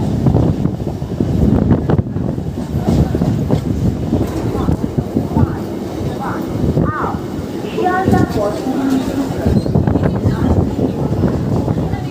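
Sealdah–Barddhaman local train running near Naihati in West Bengal, a steady loud rumble and wind roar throughout with faint rattles, a brief squeal partway, and voices murmuring underneath.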